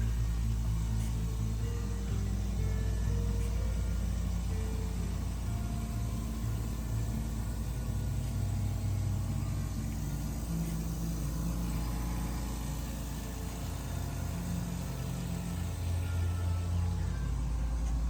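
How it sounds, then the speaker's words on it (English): An air compressor fills its tank with a continuous, steady, rumbling motor drone that carries on without pause. "we're gonna wait for the air compressor to go ahead and stop filling the tank with air"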